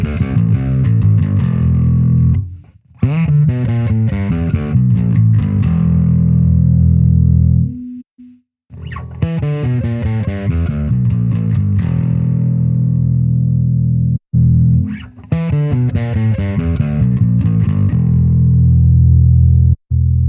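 Bass guitar through a Neural DSP Quad Cortex with the compressor block moved, playing a loud distorted riff of chugging notes and slides with brief pauses, no voices.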